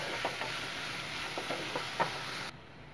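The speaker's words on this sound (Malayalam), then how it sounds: "ഇതിന് 1 മിനിറ്റ് നമുക്ക് ഫ്രൈ ചെയ്തെടുക്കാം ഈ വെജിറ്റബിൾസ്" Chopped carrot, capsicum and potato fry in a pan with a steady, close sizzle, broken by soft stirring scrapes, before the sound cuts down to a quieter hiss.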